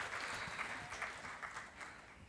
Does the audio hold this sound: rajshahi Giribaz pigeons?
no